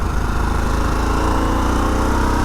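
A 2021 Harley-Davidson Sportster S engine running, a loud, steady throbbing rumble heard close up without any talk over it.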